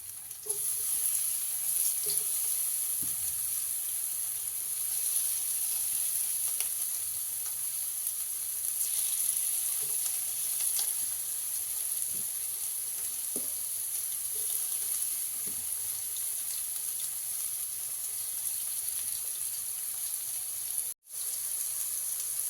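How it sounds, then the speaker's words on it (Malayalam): Soya chunks frying in oil in a pan, a loud, continuous close sizzle with a bright hiss and small pops and scrapes scattered throughout, briefly cutting out near the end. "സോയ പാനിലോട്ട് ഇട്ട് കൊടുത്ത് അത് നന്നായി ഒന്ന് ഫ്രൈ ആവട്ടെ."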